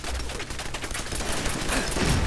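Gunfire in the video game Fallout 4, a dense, loud burst of rapid shots rattling continuously for a couple of seconds with a steady game soundscape underneath.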